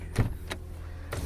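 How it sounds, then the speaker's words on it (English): A power window motor in a 2010 Toyota Yaris or 2011 Ford Ranger whirs briefly in short pulses as the window goes down, close by in a quiet cabin. "put down the window and we'll pop the hood"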